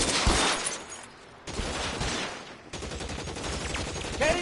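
Gunfire in the LA Noire game, with shots aimed at gasoline barrels piled at the base of a column: dense volleys of loud shots crackle in three bursts that are separated by short breaks.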